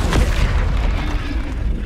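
A Bombarda explosion spell cast in the video game Hogwarts Legacy, heard as a loud, close, deep boom that stays heavy and rumbling before slowly tailing off.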